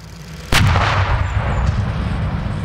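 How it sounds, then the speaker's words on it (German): A TOW anti-tank weapon fires live, one sudden loud blast that cracks sharply, then rolls on as a rumbling, roaring tail. "Der scharfe Schuss mit der Panzerabwehrwaffe TOW ist auch für die Soldaten etwas Besonderes."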